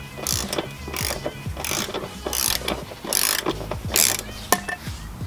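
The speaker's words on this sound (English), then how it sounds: "They're all loose enough now to do a normal ratchet." Quick repeated clicking of a hand ratchet as it loosens subframe bolts on a car, with several bursts of rapid pawl clicks and rubbing metal, close and fairly loud with no talk.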